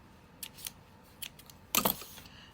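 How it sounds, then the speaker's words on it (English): Scissors snip off plastic canvas yarn in a few quick, close metallic clicks spread over a couple of seconds, with one sharper double cut near the end and no talking. "Now you're just going to snip that off,"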